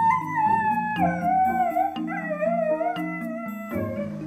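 Five dogs howl together in long, wavering tones that rise and fall, overlapping continuously and loudly close by, with no talking.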